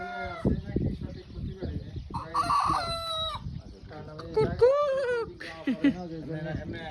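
A rooster crows loudly nearby on a farm in Saudi Arabia, with local hens clucking around it while someone talks over the birds.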